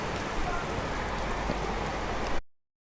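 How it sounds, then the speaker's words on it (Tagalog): Heavy rain pours in a dense, steady hiss, loud and close, then cuts off abruptly. "Wala nang ubos ang ulan."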